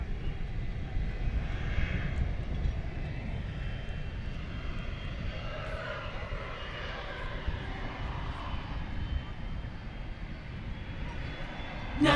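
A 32-year-old MD-11 jet airliner's engines run at night on the west side of DFW Airport, a faint, distant, steady roar and whine holding evenly throughout.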